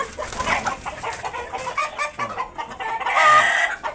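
Egyptian Fayoumi-type hens and roosters on a poultry farm during intense summer heat cluck and call in short, overlapping bursts, close and fairly loud, with no talking.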